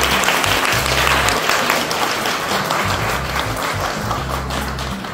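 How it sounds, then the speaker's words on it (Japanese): A large audience claps loudly and continuously to welcome a guest onstage at a Xiaomi workshop talk session, with a dense, sustained wash of applause and a faint low hum beneath it. "どうぞ拍手でお迎えください"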